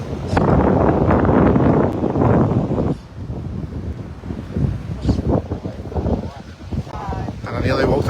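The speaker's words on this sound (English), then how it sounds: "Still quite windy though" Gusty coastal wind between Estepona and Marbella, Spain rumbles against the microphone, loud at first, then dropping to a rougher, uneven blustering.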